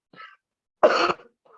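A short throat clear, then a louder, harsher cough burst, followed by a faint trailing clear, close and with no talking.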